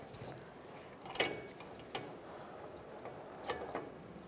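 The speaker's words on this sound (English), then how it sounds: "We're going to use a 22mm O2 sensor socket to loosen this up." A ratchet with a 22mm O2 sensor socket loosens the downstream oxygen sensor on a 2004-2009 Mazda 3 2.3L four-cylinder, giving a few faint, sparse clicks and ticks spread out over a quiet background.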